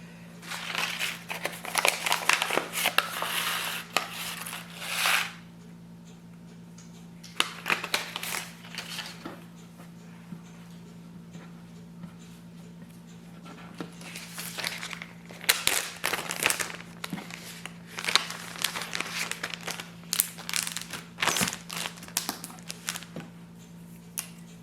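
A paper towel is folded and handled for a squash seed germination test, giving soft crinkling and rustling bursts in several separate spells with quiet gaps between them. A steady low hum sits underneath.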